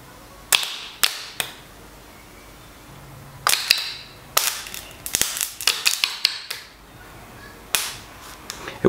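A welder tacks metal onto a rusty starter motor, making sharp crackling pops and short sputtering bursts in irregular clusters, close and fairly loud, with quiet gaps between.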